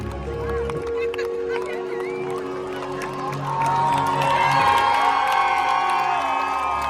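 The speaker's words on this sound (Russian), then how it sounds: "Толпа влюбленных фанатов" Crowd of fans at a concert in Milan, a loud continuous roar of cheering and shouting filling the space, with music and voices mixed in and the crowd swelling louder midway.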